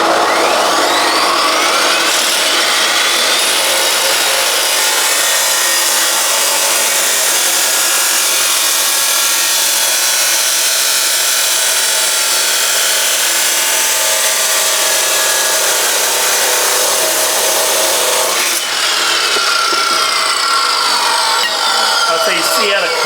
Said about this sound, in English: So you see how the cut is dead straight.